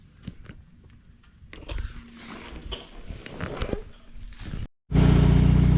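Scattered clatter and handling noises give way to a sudden, loud, steady engine rumble from a Saab convertible's faulty exhaust that holds to the end, close up and rough-sounding.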